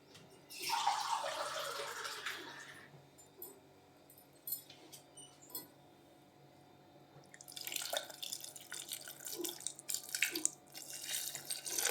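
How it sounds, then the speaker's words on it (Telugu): Water from a glass poured into a pot of brinjal and drumstick curry, a splashing burst at the start, then quieter drips and a second stretch of splashing and trickling near the end. "ఇలా వాటర్ యాడ్ చేయాలి, ఒక గ్లాసు."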